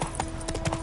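Horse hooves clip-clopping in The Witcher 3 video game, a quick irregular patter of several soft hoof strikes at moderate distance with no talk over it.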